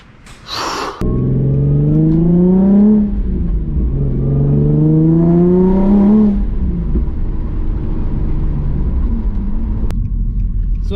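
Nissan 350Z Nismo with cold air intakes accelerating hard, loud close engine roar rising through the revs in two pulls with a shift between them, then settling to a steady drone, with a brief voice before the run.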